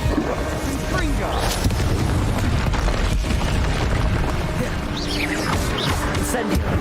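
Confringo explosive spells blast during combat in Hogwarts Legacy, a run of heavy booms and crashing impacts layered over continuous dense battle noise.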